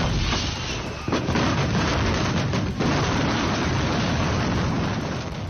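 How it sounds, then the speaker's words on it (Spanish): Fireworks blowing up at a pyrotechnics site in Tequisquiapan, Querétaro, Mexico: a sustained, loud, rumbling roar of blasts with a couple of sharper booms, distant and continuous, with no voices. "Este es el momento de la explosión en pirotecnia en Tequisquiapan, en el estado de Querétaro."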